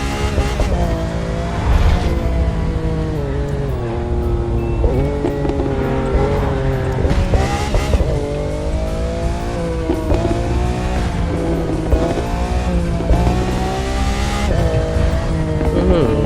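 A Lamborghini Aventador LP700-4 in The Crew 2 revs hard and races, its loud engine climbing through gears in repeated surges with tire squeal, while someone talks over it.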